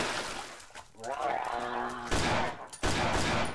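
Pistol shots in the horror video game Cry of Fear, a few sharp cracks in quick succession mixed with game noise, while a voice talks over part of it.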